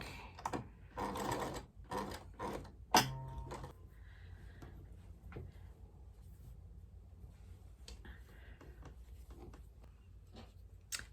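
A home sewing machine stitches a quarter-inch seam on fabric pieces for half-square triangles, giving short bursts of quick mechanical chatter with pauses between, fairly faint and close, followed by small handling taps.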